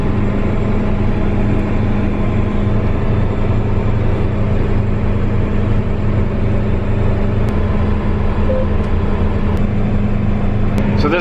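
A farm sprayer engine runs in a field, pushed harder with more throttle, giving a loud, steady, close low drone with a constant hum that holds unbroken throughout.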